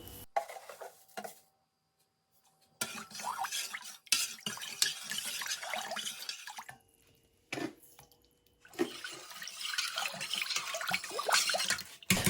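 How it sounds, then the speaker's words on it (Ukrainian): A spoon scrapes and clinks against a bowl while a sugar marinade for sauerkraut sloshes, in several bursts of stirring separated by short pauses. "Добре перемішати і залити цей маринад у капусту"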